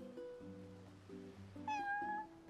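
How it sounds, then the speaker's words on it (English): A hungry domestic cat meows repeatedly for food, several short rising and falling calls in close succession, near and fairly quiet, with one brighter, higher meow in the middle. "Yes, kitty. I know. I'll get you food."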